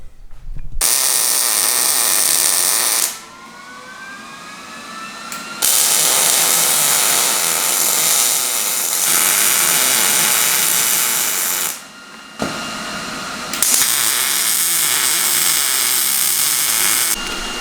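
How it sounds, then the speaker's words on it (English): An electric welder fuses a truss kit onto the differential housing of an old Bobcat excavator, giving long steady crackling hiss in three extended runs separated by short pauses, close and loud with no talking. "All right, it's not welded yet, but I'm about to."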